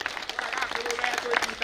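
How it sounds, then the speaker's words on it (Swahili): Crowd applause at a Meru community forum with prayer and thanksgiving, a dense run of hand claps lasting under two seconds, moderately loud and steady with no voices over it. "Tujipigie makofi kama Wameru."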